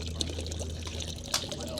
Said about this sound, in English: I just take the water, pour it out,